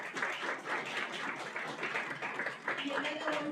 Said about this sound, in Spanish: Le demos un aplauso, por favor